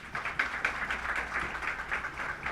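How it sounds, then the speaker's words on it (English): Conference audience applause, a soft continuous patter of many hands clapping, fairly distant and subdued, holding steady at low volume throughout. "Another round of applause."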